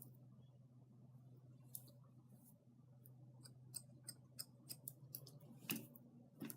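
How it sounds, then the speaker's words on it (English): Scissors snip into wig hair to thin it, a series of crisp close clicks that come more often toward the end over a low steady hum. "you take your scissor and you cut into the hair."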